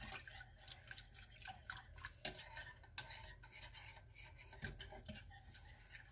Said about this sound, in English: you just keep stirring until it thickens